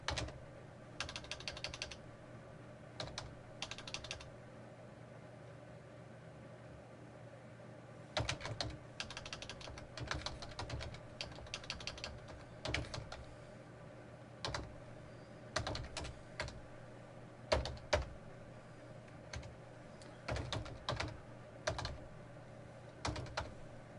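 Password being typed on a computer keyboard during a Gmail account signup, quiet clustered bursts of key clicks with gaps between them, close but soft, no talk.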